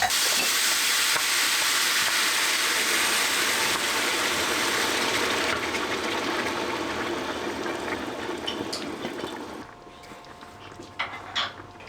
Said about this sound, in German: dann den Reis auch wirklich 2-3 Minütchen mit anbraten